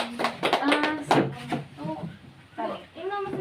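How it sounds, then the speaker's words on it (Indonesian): A burst of hand clapping for a student in a classroom teaching session, sharp claps mixed with children's and adults' voices talking over them. "Tepuk tangan untuk Nadia"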